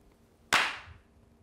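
A single sharp hand clap stands in for the count of one in a counting game. It is loud and close, rings out briefly and then fades, with near silence around it.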